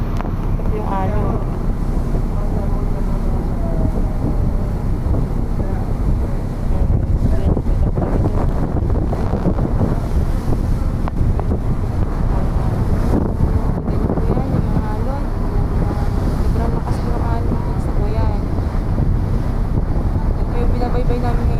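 Strong wind buffets the microphone on the deck of a RORO ferry at sea at night on the Laguna-Batangas crossing, a loud continuous roar with water rushing beneath and a voice speaking faintly within the noise.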